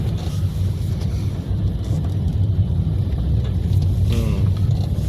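Jammed road traffic heard from inside a city bus on a highway: a continuous low engine rumble with wind buffeting and occasional creaks.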